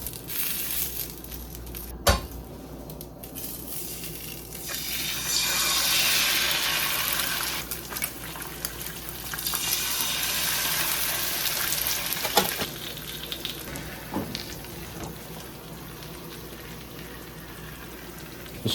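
Sausages and eggs with broken yolks fry in a pan on a butane stove set to low heat, a steady close sizzle with occasional knocks and clatter and no voices.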